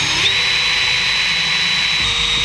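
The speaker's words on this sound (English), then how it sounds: "Drill and it will pop out just enough to pop out that rivet so you're not pushing all the way through." Power drill whining steadily while drilling out a rivet in an Airstream trailer subfloor, close and loud, a constant high-pitched motor tone with grinding underneath.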